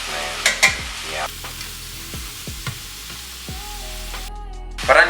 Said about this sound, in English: So I'm just gonna stir it up